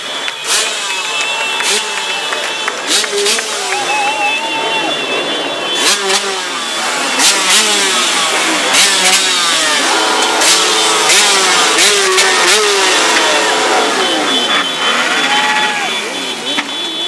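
Motorcycles rev and roar past during a street protest march, with repeated rising and falling engine sweeps near and loud, crowd noise and voices mixed underneath.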